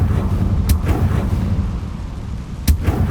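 A Confringo fire spell from the Hogwarts Legacy game, cast in an overgrown garden, lands as two sharp booming blasts, the first early and the second near the end, over a steady low rumble.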